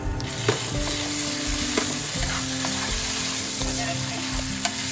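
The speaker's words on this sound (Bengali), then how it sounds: "পেঁয়াজ ভাজা হয়ে গেছে, দিয়ে দিচ্ছি আদা রসুন পেস্ট" Ginger garlic paste sizzles steadily with fried onions in a pan, a dense continuous frying hiss broken by occasional soft scrapes of stirring, close and loud, with no voices.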